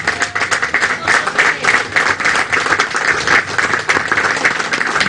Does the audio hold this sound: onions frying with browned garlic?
no